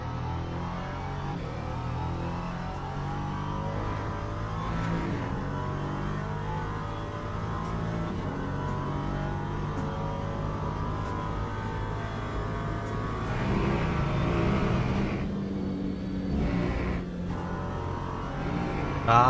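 LMP3 prototype race car in Le Mans Ultimate at Silverstone, the engine steadily droning and rising through revs, with a louder acceleration surge toward the end.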